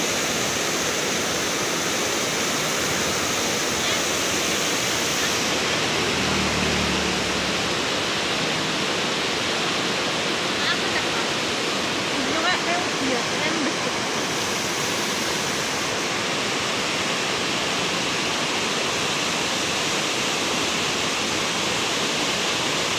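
The Sungai Tambra, the border river between Pemalang and Pekalongan, rushes beneath a bridge with a steady, dense roar that stays loud and unbroken throughout, and no one talks.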